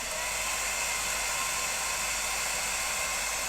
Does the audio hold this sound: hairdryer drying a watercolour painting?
yes